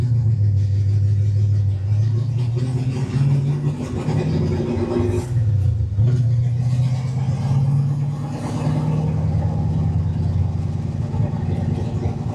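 Cold 347 stroker V8 in a 1965 Mustang fitted with roller rockers, idling with a deep lumpy rumble and a few blips of revving, loud and close throughout.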